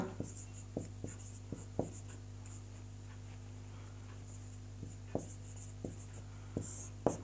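Writing on a board during a Sanskrit grammar lesson: sparse, quiet taps and short strokes at uneven intervals over a low steady hum.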